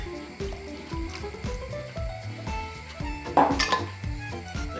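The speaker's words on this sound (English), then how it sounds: "just put some of your beef stock in the bottle. And just give it a shake." Beef stock sloshes and rattles inside a passata bottle as it is shaken, a series of quick rhythmic liquid knocks and splashes, close and fairly loud, with a brief sharper clatter partway through.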